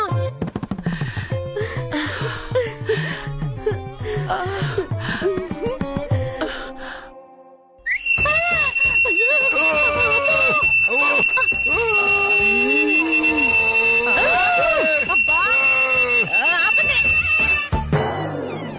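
A piercing, sustained whistle rings out loudly over a lively, noisy scene, following a stretch of earlier chatter and music.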